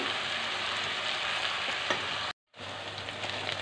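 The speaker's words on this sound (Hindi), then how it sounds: "इसके बाद प्याज का पेस्ट डाल दिया।" Onion paste fries in hot oil with a steady, close hiss and crackle and occasional soft stirring scrapes. The sound drops out completely for a moment partway through and then resumes.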